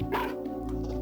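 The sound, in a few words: person imitating a dog woofing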